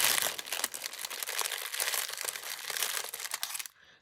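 Packaging crinkles and crumples continuously at close range for nearly four seconds, dense and papery, then stops abruptly before a quiet tail.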